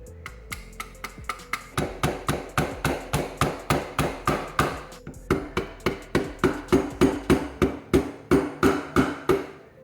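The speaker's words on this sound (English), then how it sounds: "I had to tap the top of the handguard down in tension around the gas block to get it down enough to drive it into the proper position" Sharp, evenly spaced hammer taps drive an RPK-style handguard onto a Saiga 12 shotgun around the gas block, about two blows per second, close and fairly loud with no talking.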